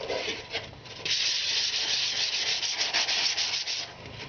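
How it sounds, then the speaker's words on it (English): Steady abrasive rubbing of a flexible Handy Sander pad on a fiberglass R/C model, a continuous scratchy hiss that grows louder and stays even, with no talking. "Now the sanding pad, the Handy Sander, is really nice because it flexes just enough"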